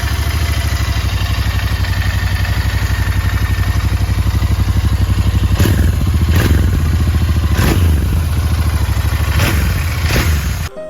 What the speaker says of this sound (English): the Interceptor wins on the sound when comparing the stock exhaust